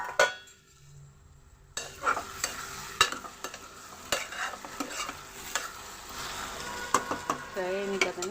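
Eggplant pieces frying in oil in a pan, with a soft sizzle beneath repeated close stirring scrapes and clinks of a spoon against the pan, after a brief quiet start.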